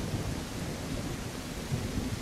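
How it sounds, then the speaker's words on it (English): Steady rain with a low rumble of thunder in the survival video game Mist Survival, a dense unbroken wash of noise throughout, with no talking. "okay, it is raining"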